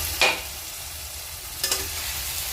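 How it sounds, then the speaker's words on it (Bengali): Turmeric, Kashmiri chili powder, salt and chopped tomato fry in oil, giving a steady, soft sizzle with two brief stirring scrapes. "এবার দেবো একটু হলুদ, দেবো কাশ্মীরি লঙ্কা গুঁড়ো, স্বাদ মতো নুন, দেবো টমেটো কুচি"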